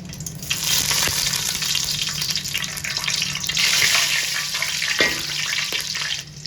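Whole garam masala spices, including cloves, cinnamon pieces and leaves, hit hot oil in a pan for chicken dum biryani and sizzle loudly and continuously up close, with a few faint clinks.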